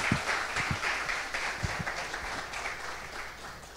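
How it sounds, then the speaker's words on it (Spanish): Audience applause at a startup demo day, a steady wash of clapping from a crowd that gradually thins and fades over a few seconds. "Fuerte aplauso."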